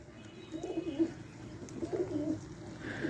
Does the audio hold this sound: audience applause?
no